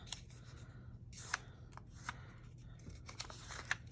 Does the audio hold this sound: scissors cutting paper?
yes